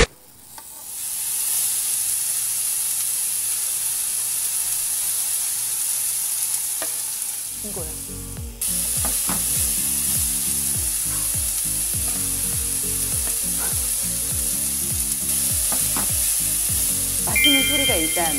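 Beef and cheese sizzle steadily on a preheated Zaigle electric grill, a constant close hiss that grows denser partway through as more food hits the surface, with someone speaking briefly over it.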